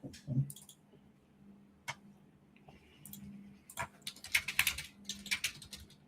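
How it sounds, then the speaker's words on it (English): Someone types quickly on a computer keyboard, with scattered key clicks building into a dense flurry of taps near the end, soft and close, with no voices. "frantically typing at a window we can't see right now"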